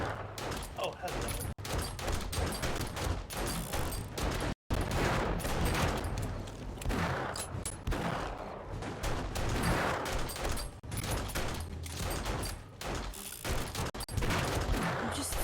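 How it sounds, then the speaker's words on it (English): Continuous gunfire from shooting enemies in the game 7 Days to Die, bursts and volleys rattling steadily throughout at loud level, with one brief dropout, while a voice talks over the shooting. "I'm just shooting down through this, trying to get all these guys"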